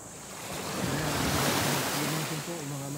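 Ocean surf rolls steadily onto the shore at Bulinaw beside beachfront resorts where fishermen work, a continuous broad wash of waves with wind noise on the microphone.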